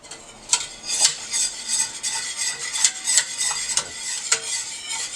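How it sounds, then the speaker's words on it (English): A spoon stirs grits into melted butter in a pot, a steady close scraping and swishing with frequent light metallic taps against the pot and a faint sizzle underneath, with no voices. "So you just want to stir this while you're putting your grits in."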